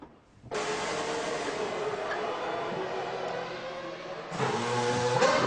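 An Arrows Formula 1 car driven by Jos Verstappen, 2001 German Grand Prix, fires up and rolls out of the garage: a loud, steady, high-pitched engine drone held throughout, with a sharp jump in revs near the end.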